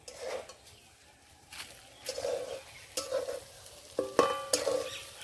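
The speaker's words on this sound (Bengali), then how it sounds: "ঠিক এইরকম করে ভাজতে হবে।" Soybean chunks fry in a pan for an egg soybean curry, with a spatula scraping and stirring in short bursts over a low, steady sizzle, close and moderately loud, with no voices.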